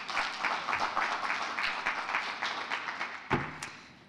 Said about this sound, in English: Let's give her a warm applause,